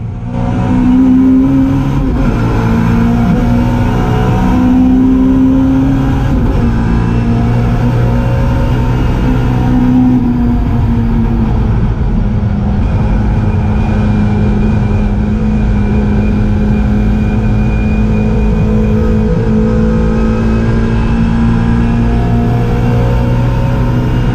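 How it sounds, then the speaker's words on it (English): A Mini Cooper race car at the Goodwood Revival roars continuously from onboard, its engine revving hard with pitch rises and drops as it downshifts, loud and close throughout with no break. "which is why I now need the downshift to second in Lavant"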